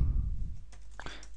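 Keys on a computer keyboard click in a brief run of a few close taps after a low rumbling stretch, typing a command for a Minecraft 1.2.5 camera mod.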